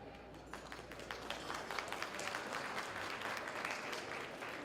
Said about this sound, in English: if you can hold the applause to the end, I would appreciate it